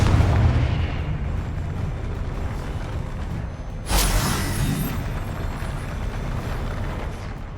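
A Confringo fire spell exploding in the video game Hogwarts Legacy, one sharp burst partway through that rises out of a rumbling, roaring game soundscape, loud and close, without talking.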